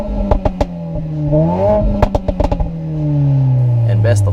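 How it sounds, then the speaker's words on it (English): A 2018 Mercedes-Benz GLA 45 AMG with its AMG sport exhaust revving, sharp throttle blips and crackles followed by a rising then falling engine drone, loud and close. "an AMG exhaust that sounds like a mountain tiger is mating"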